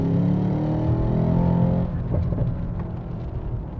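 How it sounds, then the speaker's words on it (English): A Mercedes-AMG S63 in Sport Plus launches hard from a standstill, its engine roaring loud and close with rising harmonics before the note drops as the car pulls away. "Let me go in Sport Plus and hammer it from a stop."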